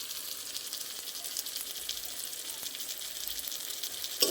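Turmeric, salt and Kashmiri chilli powder sizzle with green chillies in a pan while cooking potol chingri, a steady quiet crackle with no talking.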